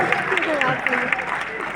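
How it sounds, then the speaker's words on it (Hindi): Audience at a national poetry gathering (kavi sammelan) breaking into brief applause, steady clapping from a crowd with a voice speaking over it. "और तालियां"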